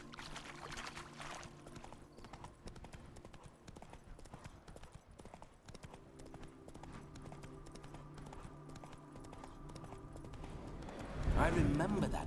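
Roach's hooves clip-clop steadily on the ground in The Witcher 3, a continuous rhythmic trot under game music and spoken dialogue, with a louder burst of movement near the end.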